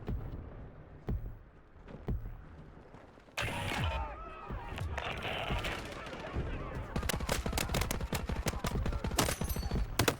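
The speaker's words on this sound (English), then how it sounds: "we're getting shot at from the left" Battlefield 6 gunfire on the game's edge of the combat area, with scattered distant shots early and then dense, loud bursts of rapid automatic fire and crackling impacts, and some voice chatter underneath.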